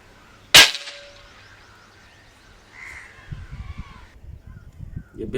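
A single sharp air gun shot firing an HN Hornet or Predator Metalmag pellet in a penetration test, loud and close, with a short decaying ring, then quiet shuffling and soft handling noises.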